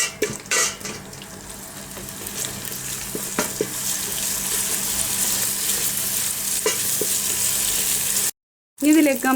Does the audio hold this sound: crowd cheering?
no